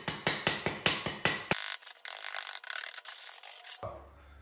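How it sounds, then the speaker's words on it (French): A hand tool scrapes leftover tile adhesive off tiles in quick, rhythmic strokes, about six in a row, then gives way to a longer, rougher grinding rub before it cuts off. "J'aurais dû venir hier gratter comme ça, enlever toute ma colle qui est restée là"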